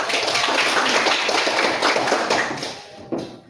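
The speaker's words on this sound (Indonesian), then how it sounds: "Tepuk tangan dulu untuk" A room full of people claps steadily for a few seconds, the applause thinning out and ending with a final sharp tap.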